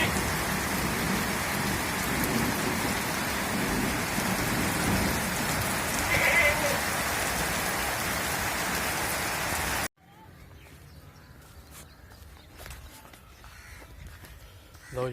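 Heavy rain pours down steadily outdoors, a loud, dense hiss of drops on surfaces that fills the space before cutting off abruptly to a much quieter, muffled background.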